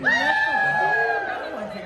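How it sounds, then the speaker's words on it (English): A large crowd gathers at Disney's Animal Kingdom on Earth Day, with a sustained high excited shout or whoop ringing over a busy mix of cheering and chatter. "This is a huge crowd."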